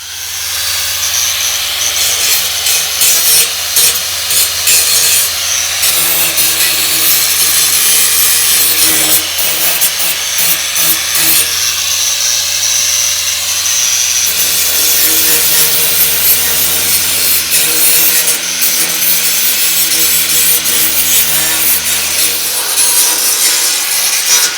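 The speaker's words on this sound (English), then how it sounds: "So let's grab the grinder and we'll touch this up" An angle grinder smooths the sharp edges of a metal firewood storage container, running loud and continuous with a harsh abrasive whine that shifts in pitch as pressure changes, no talking over it.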